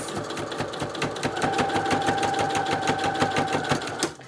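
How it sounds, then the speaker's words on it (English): A sewing machine stitching a buttonhole automatically, running backwards through the pattern with a steady, rapid mechanical chatter of needle strokes that holds at a constant pace, close and fairly loud, before stopping abruptly near the end. "all I have to do is press go and the machine will do it for me"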